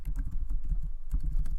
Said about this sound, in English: My keyboard's not that loud.